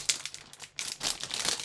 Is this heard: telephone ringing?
no